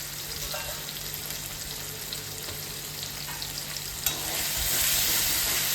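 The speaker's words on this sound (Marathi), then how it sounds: "आता आपण सगळं जे आहे ना ते व्यवस्थित परतून घ्यायचं आहे." Spices with red chili powder, turmeric and salt sauté in a pan, a steady close hiss of frying with light stirring scrapes running throughout, no voices.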